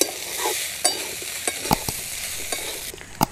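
Spicy pasta frying in a pan as beaten egg is stirred through it, a soft steady sizzle broken by sharp clicks and scrapes of the spoon against the pan, close and without talk.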